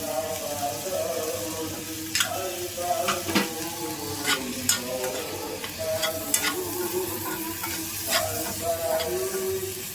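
Poppy seeds and sesame seeds frying in a pan sizzle close up while a spatula scrapes and knocks against the metal in an uneven rhythm, with a faint trace of a voice in the background.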